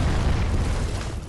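Explosion from a Dragon Slayer arrow in Dark Souls III, a loud, dense, rumbling burst filling the whole short moment with no talk.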